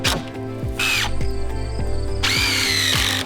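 A power drill fastens X bracing to the post of a hunting blind, its motor whining close up and revving up and down repeatedly in short bursts as the screws drive in.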